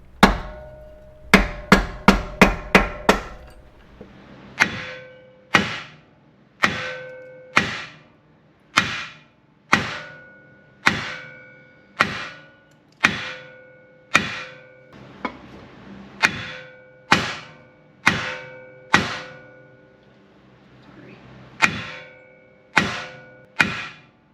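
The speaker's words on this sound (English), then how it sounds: "I'm going to go ahead and take a block of wood. I'm going to give it a couple whacks and see if we can get some movement." A block of wood is hammered against the lower control arm of a 2014 Subaru XV Crosstrek, first as a quick flurry of sharp knocks, then as steady, loud, ringing whacks spaced about a second apart, heard up close with no talk.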